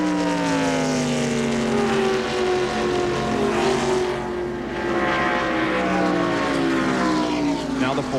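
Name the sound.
NASCAR race car engine, Jeff Gordon's number 24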